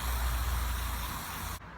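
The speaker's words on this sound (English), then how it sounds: "Now we're just going to take our WD-40 and the S-arm and spray it." WD-40 sprayed from an aerosol can onto a truck mirror arm, a steady close hiss that cuts off sharply near the end.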